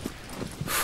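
Horse hooves in the Shadow of the Colossus video game sound as a few quick, soft clip-clop thuds in the forest zone, short and unaccompanied by talk.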